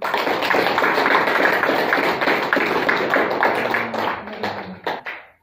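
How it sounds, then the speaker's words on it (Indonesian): Students clapping their hands together in a classroom, a dense, steady burst of rapid claps that holds for several seconds, then thins out and stops abruptly, with faint voices near the end. "Oke, kita tepuk tangan."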